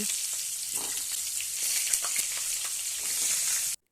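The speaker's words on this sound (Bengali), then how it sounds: "গ্যাসের ফ্লেমটাকে মিডিয়ামে রেখে ফুলকপির ফুলগুলোকে আমি একটু লাল করে ভেজে নেব" Cauliflower florets fry in oil over a medium gas flame with a dense, even hiss and scattered small pops. The sizzle is close and constant, then cuts off abruptly just before the end.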